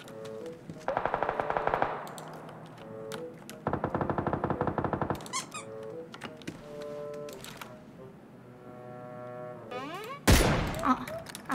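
Automatic rifle bursts in the battle royale game PUBG, two long rapid strings of shots separated by quieter game sounds and tones, with a loud sharp blast near the end.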